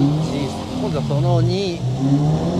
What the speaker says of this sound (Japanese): サイドブレーキ、 やば、 ね、サイドブレーキターン、 かっこよ。